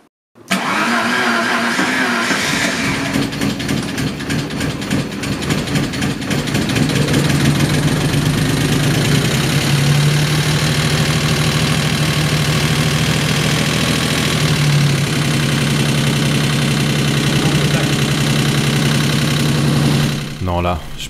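An abandoned Maserati's engine, barn-stored for 15 years, runs roughly right after starting, a loud, continuous, uneven idle with a steady low hum throughout, under occasional speech.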